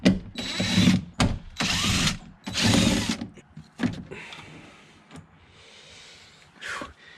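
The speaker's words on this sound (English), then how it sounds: "I'm going to use my impact driver with my 10mm socket, and I'm going to pull out these screws here" A cordless impact driver fitted with a 10mm socket backs screws out of a Toyota Tacoma front door panel, loud close ratcheting bursts in three main runs separated by pauses, followed by quieter handling clatter.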